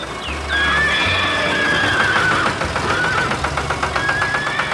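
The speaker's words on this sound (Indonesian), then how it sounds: "kuda-kuda kecil sedang bermain di sekitar meja kayu" Cartoon horses neigh and whinny on an animated farm with cows and milk cans, several loud drawn-out calls in a row with a faint clip-clop rhythm beneath them.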